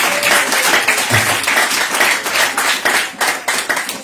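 A church congregation claps and applauds loudly for Jesus, a dense, steady wash of many hands with a few voices mixed in throughout.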